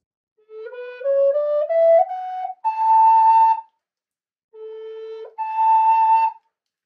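An A4/D5 Richard Dubé dual flute in indigenous tuning plays a stepwise rising run of breathy, pure notes, then a held higher tone, a pause, and a low note leaping up an octave, played close and alone.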